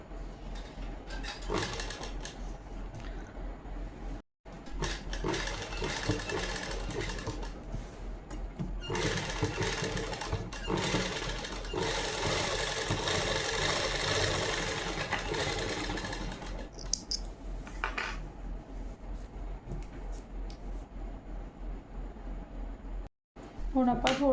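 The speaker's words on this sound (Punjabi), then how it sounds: "ਬੁਕਰਮ ਦੇ ਨਾਲ ਨਾਲ ਸਲਾਈ ਲਗਾਉਣੀ ਹੈ" A sewing machine stitching along the buckram of a Punjabi suit kameez, running in long continuous whirring bursts with short pauses and restarts, close and fairly loud.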